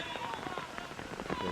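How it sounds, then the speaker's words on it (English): Heavy rain pounds down steadily at a high school football game, a dense broadband hiss with scattered patters throughout. "you see right now the rain coming down on the screen. As it is really pounding."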